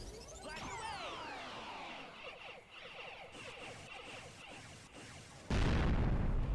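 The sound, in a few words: explosion in video game Sonic Heroes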